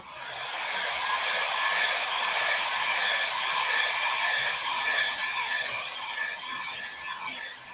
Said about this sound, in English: I'm going to hit this with a dryer real quick.